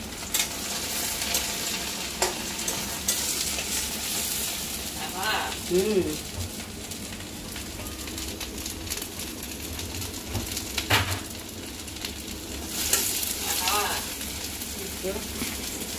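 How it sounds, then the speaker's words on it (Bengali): Tomatoes are added to fried onions in a hot pan and hiss with a continuous close sizzle. Stirring scrapes sound now and then, and faint bird cooing can be heard in the background. "পেঁয়াজ ভাজা হয়ে গেছে, এখন আমি টমেটো দিয়ে দিলাম।"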